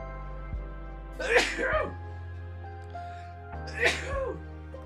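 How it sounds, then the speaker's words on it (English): Two sneezes, one after another with a short pause between, loud and close, over a quiet background hum. "Uh-oh, I gotta sneeze."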